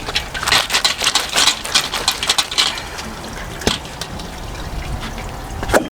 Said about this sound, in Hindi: इस तरीके से इसका पानी ड्रेन कर दें, निकाल दें सारा पानी